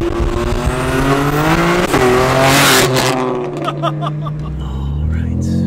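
BMW M3 G80 accelerating hard, a loud rising engine roar climbing through the revs with a quick upshift, heard from inside the car, then dropping back to a lower drone; a voice speaks over it.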